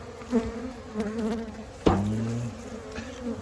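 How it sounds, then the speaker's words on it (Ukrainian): A drone-laying honey bee colony buzzes in a dense, droning hum that wavers in pitch, with a sudden knock partway through and a louder buzz right after. "Ось, подивіться, скільки бджоли."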